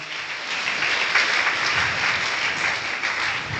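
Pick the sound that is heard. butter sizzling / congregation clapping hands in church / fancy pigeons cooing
congregation clapping hands in church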